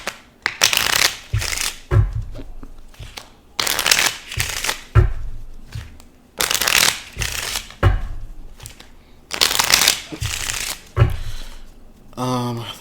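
A deck of reading cards is shuffled in repeated riffle bursts, each a loud, crisp fluttering rush followed by a brief pause, close to the listener; a voice begins to speak at the very end.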